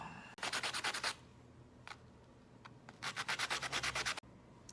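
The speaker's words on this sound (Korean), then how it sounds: "이렇게 두 개를 겹쳐서 나사를 끼우고 이쁘게 갈아줍니다." Two screwed-together Tamiya Mini 4WD bumper parts are sanded in quick rhythmic strokes, with a fast run of rasping rubs, a pause with a couple of single scrapes, then another fast run, close and clear.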